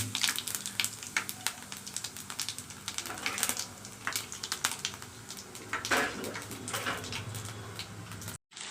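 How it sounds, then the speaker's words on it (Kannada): Mustard seeds spluttering in hot oil in a home kitchen pan, a dense run of small crackling pops and sizzles with scattered sharper bursts, close and steady throughout, no voices. "ಸಾಸಿವೆ ಹಾಕ್ತಾಯಿದ್ದೀನಿ. ಸಾಸಿವೆ ಚಟಪಟ ಅನ್ನಲಿ."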